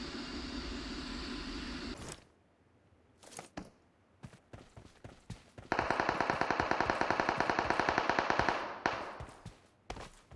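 Rapid automatic gunfire in the mobile shooter PUBG Mobile, with a few separate shots followed by a long sustained burst of fast rhythmic fire lasting about three seconds and a lone shot at the end, loud and close, with no talk.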